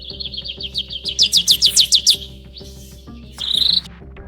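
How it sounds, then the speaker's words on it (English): AI-generated forest bird sounds: rapid chirps and trills ring out over a low steady hum, rising in a rhythmic burst, then a short buzzing call near the end. "Create bird sound in the forest."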